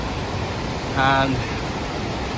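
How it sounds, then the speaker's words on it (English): Loud rushing waterfalls swollen by heavy rain in Yorkshire roar as a steady broadband wash throughout, with a voice speaking briefly partway through. "it is the power of these waterfalls at the moment. As you can tell, they're really loud"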